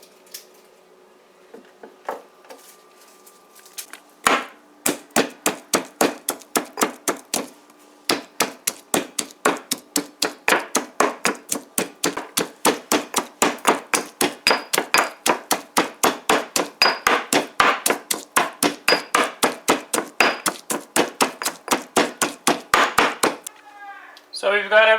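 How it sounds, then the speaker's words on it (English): Knife chopping pak choi (baji) stems into very thin slices on a cutting board, a fast steady run of crisp close taps that continues for about twenty seconds before stopping. "So the stem of the Baji you want to cut very thin slices like this here"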